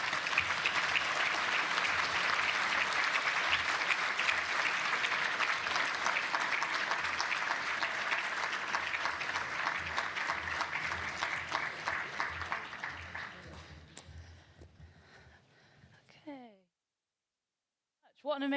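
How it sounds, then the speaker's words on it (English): An audience at a party political annual conference applauds loudly after keynote speeches, with sustained clapping that gradually thins out and fades to silence, with a few voices cutting in at the very end. "give another round of applause for our keynote speeches this morning"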